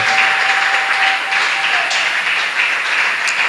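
A church congregation applauds loudly and continuously to acclaim the Lord, a dense sustained roar of many hands clapping that fills the room, with a faint held tone behind it.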